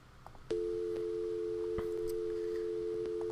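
A phone in the Gabriel Knight: Sins of the Fathers adventure game gives a steady, loud dial or busy tone that starts abruptly after a short quiet lead-in and holds unbroken to the end.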